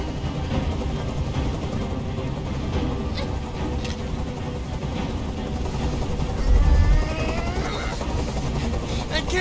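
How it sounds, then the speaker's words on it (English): A helicopter hovering over a rooftop hostage standoff in Detroit: Become Human, a steady rotor drone with scattered sharp bursts and a swelling low thump mid-way, voices talking over it. "I can't stand that noise anymore. Tell that helicopter to get out of here."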